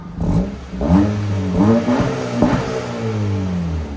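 A 2023 Acura Integra A-Spec 1.5-liter turbocharged engine with resonator delete revs repeatedly in quick throttle blips, the exhaust rising and falling in a rumbling, close-up rhythm.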